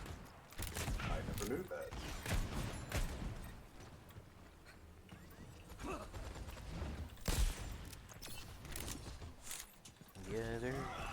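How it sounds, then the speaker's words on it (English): A particle cannon weapon in a video game fires repeatedly with sharp bursts and rumbling mechanical clatter, one loud blast standing out near the middle, while people talk over much of it. "Particle cannon. Is that what this weapon's called?"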